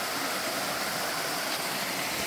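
A small village stream flows in a steady, unbroken wash of rushing water, with no voices and no other sounds standing out.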